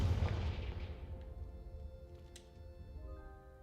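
A Confringo fire spell blasts in Hogwarts Legacy, a loud booming burst at the start that decays into a rumbling tail under faint game music.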